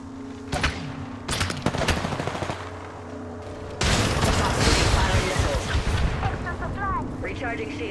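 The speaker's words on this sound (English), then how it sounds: "Shots fired and they're hitting me." Gunfire in the video game Apex Legends during a ranked arena match: sharp shot bursts, then a sustained loud volley of rapid automatic fire with impacts and zipping effects, close and harsh, with speech faintly mixed in.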